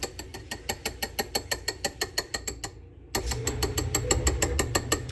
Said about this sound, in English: Sorry about my washer in the background.